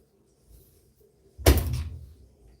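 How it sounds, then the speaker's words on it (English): A door is shut hard, one loud, heavy thunk that booms and rattles before fading over about a second, following a few faint knocks and shuffles. "Can you close the door nicely, Alicia, please?"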